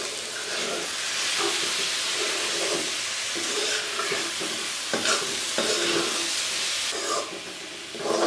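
Fried bitter gourd is stirred together with chana dal in a hot pan, a continuous close sizzle and hiss with repeated scraping spatula strokes at an uneven rhythm.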